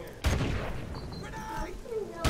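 A grenade goes off close by in a multiplayer shooter objective match, a loud broadband burst that rises sharply and rumbles on, followed by a second sharp blast near the end, with voices talking over the noise.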